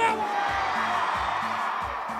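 Audience at a live show in Oaxaca whooping and cheering over thumping dance music, the crowd noise steady and fairly dense while a voice carries over it at the start.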